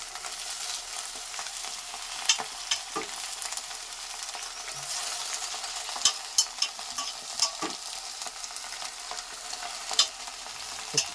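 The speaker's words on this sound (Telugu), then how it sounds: "మొత్తం నాలుగు రకాల ఆకుకూరలు కలిపి అయితే వండుతున్నాం" Four kinds of leafy greens, including fenugreek and spinach, cooking in a pan: a steady hiss of frying with repeated scraping stirs of a spatula, close and fairly loud, no talking.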